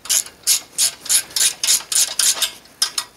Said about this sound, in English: Double speed wrench time.